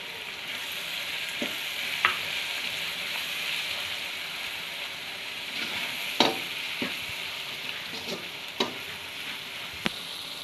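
Egg bhurji masala sizzles steadily in a frying pan with oil, a close, continuous crackle broken by occasional sharp pops and spatters.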